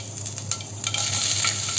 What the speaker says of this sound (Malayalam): അരിഞ്ഞു വെച്ചിരിക്കുന്ന ഇഞ്ചിയും വെളുത്തുള്ളിയും ചേർത്ത് കൊടുക്കുന്നുണ്ട്